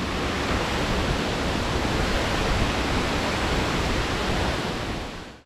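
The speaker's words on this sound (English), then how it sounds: "So again, there is a waterfall" Meghalaya waterfall roaring as a dense, steady wash of rushing water, loud and close, with no voices over it.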